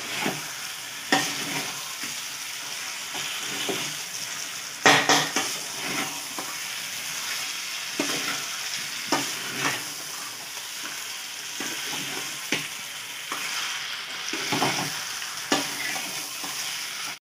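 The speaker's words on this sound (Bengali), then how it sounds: "এবার মটনটাকে ভালো করে কষতে হবে।" Mutton sizzles and hisses steadily in hot oil in a pan as it is stir-fried into kosha, a spatula scraping and stirring it in intermittent close strokes.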